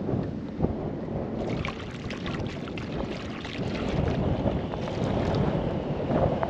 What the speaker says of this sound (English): this wind is ridiculous all of a sudden